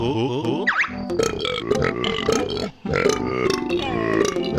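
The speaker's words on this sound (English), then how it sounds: "another character that was in the first game that has a hilarious voice, because he burps constantly" A Banjo-Tooie character speaks in a gurgling, burped voice, producing repeated belching syllables in quick bursts, loud and up front, with a short pause partway through.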